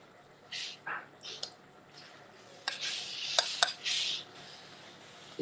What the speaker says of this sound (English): Apply a little red oil to the cocoyam. Then whisk.